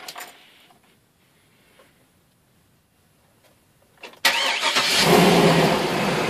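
An 8.1 Vortec V8 in a W24 Workhorse chassis, with its starter just rebuilt, sits quiet for about four seconds. Then it cranks and fires abruptly into a loud, steady idle close by.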